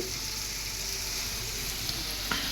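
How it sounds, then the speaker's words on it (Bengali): Potato pieces fry in oil in a pan, giving a dense, continuous sizzle close up, with a couple of faint clinks of stirring. "এইখানে হলো আলুগুলো আমি ভেজে রাখছি লাল করে"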